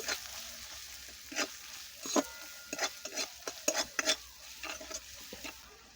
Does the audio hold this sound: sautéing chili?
yes